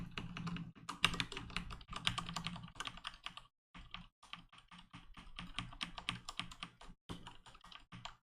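Rapid computer keyboard typing during a game of Dungeon Crawl Stone Soup, close and clicky, in irregular bursts of keystrokes with short pauses, including one longer gap, and no talking.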